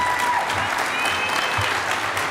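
An audience at a StepUp event on implicit bias applauds steadily after being asked to stand and cheer, dense continuous clapping filling the room with a few scattered voices mixed in.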